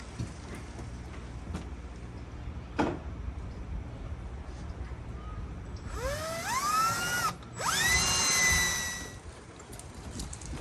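A power drill with a 3/16 bit bores screw holes into a catamaran gunwale, the motor whining up in pitch in two short bursts amid faint handling clicks.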